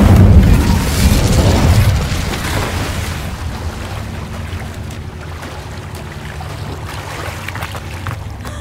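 A fire spell cast in Hogwarts Legacy, a loud booming whoosh of flame bursting at the start, then fading into a lower crackling rumble that continues steadily.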